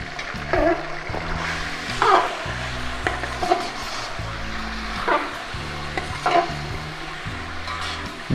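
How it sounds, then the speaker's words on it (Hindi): Beef korma meat is stirred into hot oil with cloves in a pot, giving a continuous loud sizzle with repeated scraping strokes of the spoon. A steady low hum runs underneath. "गोश्त डाल के इस तरह आपने हिला देना है"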